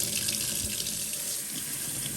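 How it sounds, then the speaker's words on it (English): Hot water runs steadily from a newly installed faucet into a sink, a continuous hissing splash that stays even and fairly quiet throughout. "here we have the hot water coming out on the correct side"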